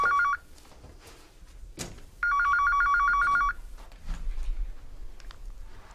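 A telephone rings with a loud trilling electronic tone, one brief burst followed by a longer one, with quiet room sounds and knocks around it.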